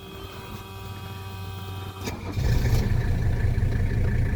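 A cold 1983 Mercedes 300D diesel engine cranks briefly after glow plugs heat, catches, and settles into a steady, loud rumbling idle.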